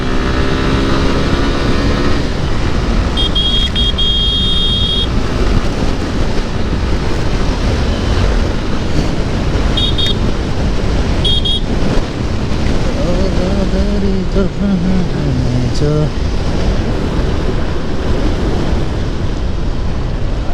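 A two-wheeler speeding along an open main road after rain, with steady, loud wind rush and engine roar buffeting the microphone throughout, and faint electronic chirps now and then.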